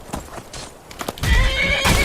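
A horse in Skyrim gives a loud, close whinny after a few scattered hoof clops, with the neigh trailing off as the clip ends.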